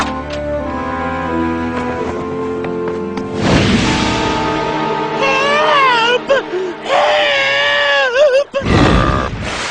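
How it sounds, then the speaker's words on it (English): A cartoon character from the animated series Blazing Dragons lets out high, wavering kitten-like shrieks and cries, loud and up close, breaking up into warbling wails after a few seconds of music and voices. "Just keep shrieking like a kitten."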